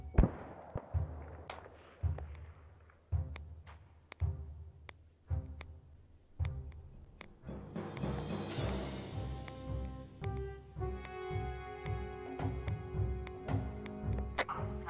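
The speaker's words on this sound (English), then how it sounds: "Why are you throwing a grenade?" An airsoft grenade is thrown during an outdoor skirmish. Sharp pops of gunfire come about once a second, then the grenade bursts into a dense, sustained rattle of pops and crackle. The sound is moderately distant, and no one speaks.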